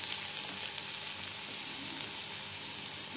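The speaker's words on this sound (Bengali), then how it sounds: "এখন এটা আমার ভাজা ভাজা হয়ে আসছে" Vegetables for masala Maggi frying in a pan, a steady soft sizzle and crackle heard close and alone.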